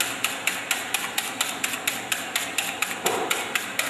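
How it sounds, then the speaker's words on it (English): An egg being whisked until foamy in a bowl, rapid regular clicking strokes of the whisk against the sides, close and steady, about four beats per second. "Whisk your egg you have to whisk it until it's look foamy."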